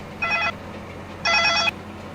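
A telephone rings in two distinct bursts of electronic trilling, fairly loud and clear against a quiet background with no talk over it.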